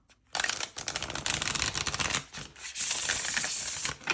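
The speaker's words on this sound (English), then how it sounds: "the way these cards are shuffling" Tarot cards shuffled by hand in a steady run of crisp riffling and flicking, close and fairly loud, with a brief pause partway and a long dense burst of rapid card-slapping at the end.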